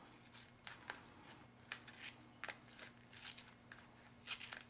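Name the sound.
scissors cutting paper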